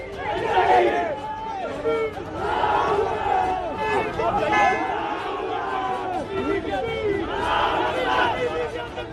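A large crowd of protesters shouts slogans outside Farooq Abdullah's house, loud rhythmic massed chanting and yelling that rises and falls in waves throughout.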